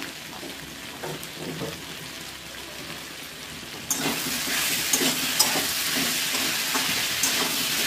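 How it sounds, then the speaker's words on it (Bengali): Papaya and potato curry with a little sugar sautéing in a pan, a soft sizzle with light stirring taps that swells into a louder, denser hiss halfway through, close and with no talking. "হাফ চামচ মতো চিনি দিয়ে এবার কষিয়ে নিচ্ছি"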